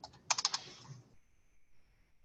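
A quick burst of typing on a computer keyboard, a handful of close, crisp key clicks followed by near silence.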